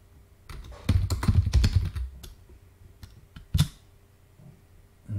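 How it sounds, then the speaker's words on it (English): Fingers type on a computer keyboard while using a BBC Basic emulator: a quick, uneven burst of close, clattering keystrokes, a pause, then a few scattered taps and one harder key strike. "And I can type anything I want."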